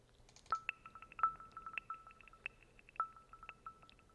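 A Windows 10 NFP connection system notification plays a short run of crisp electronic beeps and tones. The chimes come in quick, separate pulses over about four seconds, clear against near silence.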